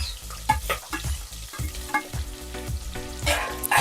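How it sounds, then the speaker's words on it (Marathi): Lengthwise-sliced onion frying in a pan for chicken dum biryani, with a steady close sizzle broken by repeated scraping stirs of a spoon against the pan, loud and without talk. "आणि हा जो कांदा आपण याच्यामध्ये टाकला आहे याला आपल्याला चांगलं गोल्डन ब्राऊन होऊस तर याला आपल्याला चांगलं फ्राय करायचं आहे"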